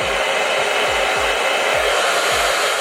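Hair dryer blowing a steady stream of cool air onto wig glue during a wig install, a loud constant broadband rush with soft low thumps recurring about every half second, no talking.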